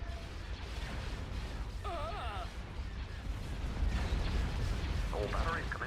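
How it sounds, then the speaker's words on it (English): Heavy booming fire from starship batteries in a Star Wars strategy game rumbles steadily beneath clipped radio-style voice lines and a speaking player, swelling louder toward the end. "All batteries commence firing."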